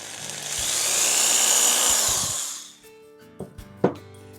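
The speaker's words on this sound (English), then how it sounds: "Now let's try drilling a hole." A power drill whines steadily for about two seconds, then winds down, followed by a few clunks and taps.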